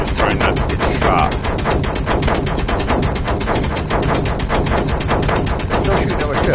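Rapid automatic gunfire in the Space Engineers video game, pirate-base turrets firing on the player's ship, a dense, loud, steady stream of shots running throughout with no break.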